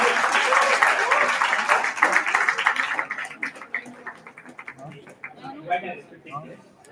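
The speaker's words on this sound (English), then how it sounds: "Let's give everyone a final thunderous round of applause." Applause from a university commerce school event audience fills the first few seconds in a dense, loud wash of clapping, then thins to scattered claps as a voice speaks over the fading end.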